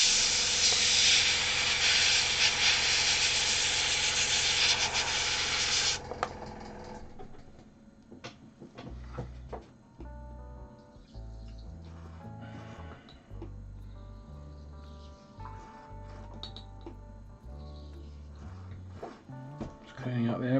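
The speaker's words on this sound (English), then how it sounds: "Just cleaning out the airbrush again." Airbrush being flushed and cleaned while painting a Warhammer 40k Word Bearers Forgefiend model: a loud, steady burst of spraying air hiss for about six seconds, then quieter intermittent clicks and handling with a low hum behind.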